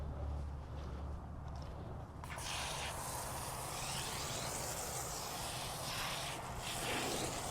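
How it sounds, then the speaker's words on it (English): A steady, close hiss of wheel cleaner spraying from a pump sprayer onto a car wheel starts suddenly and continues for several seconds without a break. "All right, spray that to the other wheel."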